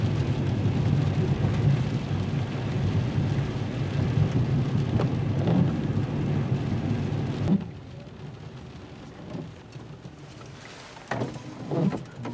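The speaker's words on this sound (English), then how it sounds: "It's now really raining" Heavy rain pours steadily and loudly for several seconds, then drops abruptly to a quieter patter with a few scattered knocks.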